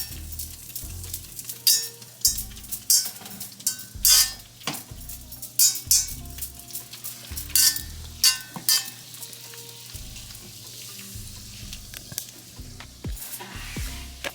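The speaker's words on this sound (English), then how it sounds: "she has her hand in the hot pot stirring the butter" Butter stirred in a hot pot for a shrimp boil, with steady frying sizzle, intermittent clinks and scrapes of utensils against the pot, and low background hum, close and continuous.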